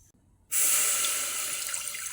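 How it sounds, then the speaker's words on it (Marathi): After a brief silence, water suddenly gushes into a metal cooking pot and keeps pouring steadily, a close, hissing splash. "एक पातेलभर पाणी टाकलेलं आहे"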